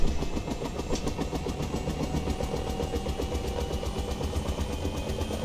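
A UH-1 Huey helicopter engine in X-Plane 11 runs steadily as the throttle opens slowly, a dense rumbling drone with rapid rhythmic beating, loud and continuous with no talk.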